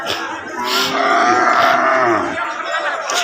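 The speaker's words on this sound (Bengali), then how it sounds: "এই যে পিছনে একটা বাঁধা বড় গরু" Large tethered cattle at a cattle market in Dharmapasha upazila, Bangladesh, give loud, drawn-out moos that fill the whole span, close and dominant over faint background bustle.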